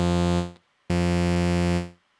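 A bright, buzzy Moog-like saw synth patch layered with an octave-up oscillator, playing two sustained notes separated by a short gap, each cutting off cleanly.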